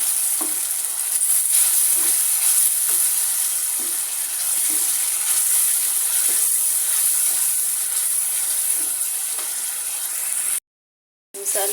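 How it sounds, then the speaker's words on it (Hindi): Steady sizzling of masala with turmeric and a little water frying in a hot pan, with faint scraping of stirring throughout, close up; no talking. "साथ थोड़ा सा पानी डाल के इस मसाले की अच्छे से बुनाई कर लूँगी।"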